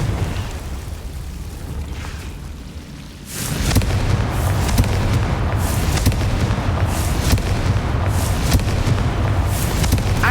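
A Confringo blasting spell bursting in Hogwarts Legacy, a sudden loud boom about three seconds in that settles into a sustained rumbling roar with repeated crackling hits.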